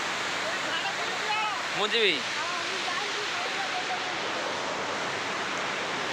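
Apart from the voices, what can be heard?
Gandahati waterfall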